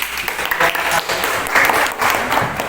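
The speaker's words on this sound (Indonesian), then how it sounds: "terima kasih. Tepuk tangan dulu." A classroom of students applauds after a group presentation, with loud, close, continuous clapping that swells in uneven waves for a few seconds.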